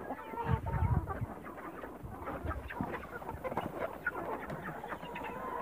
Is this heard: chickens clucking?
yes